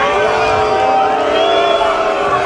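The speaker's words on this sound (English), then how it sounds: "The Wynwood crowd doesn't like it." A wrestling event crowd in Wynwood reacts with a sustained, loud mix of jeers, shouts and whoops from many voices, filling the space without pause.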